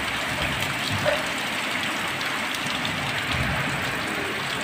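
Dense, steady hiss of heavy rain pouring down without a break on a tin roof, loud and close, with a faint low rumble underneath.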